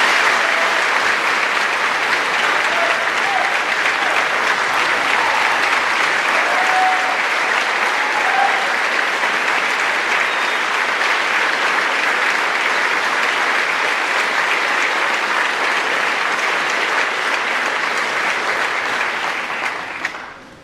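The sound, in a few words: audience applause for graduating class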